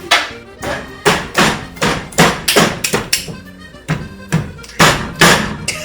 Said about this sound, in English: hammer the knife in there